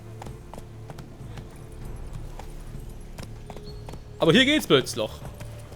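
Horse hooves clip-clop in The Witcher 3 as a regular soft patter under game ambience, while someone talks loudly over the last part.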